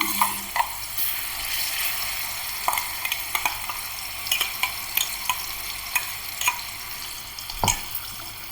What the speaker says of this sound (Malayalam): നമ്മൾ ഈ അരച്ചെടുത്ത ഈ മിക്സ് ഇതിലേക്ക് ഇട്ട് കൊടുക്കാം കേട്ടോ ഇതൊന്ന് നന്നായി മൂക്കണം